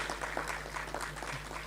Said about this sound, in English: Yes, you deserve a big round of applause.